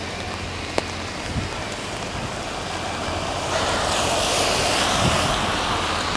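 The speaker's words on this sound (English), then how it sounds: "This is a heavier rain than the last time I came out." Heavy rain pours in Halifax as a steady, dense outdoor hiss that swells louder partway through, with a few faint knocks underneath.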